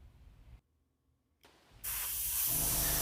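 Burnt sienna paint sprayed from an airbrush down the back of a jerkbait lure: a quiet hiss, a pause of near silence, then a loud steady spray hiss that runs to the end.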